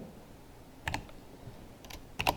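Someone types MATLAB code on a computer keyboard: two short bursts of crisp key clicks, close and fairly quiet, separated by a near-silent pause with low room noise.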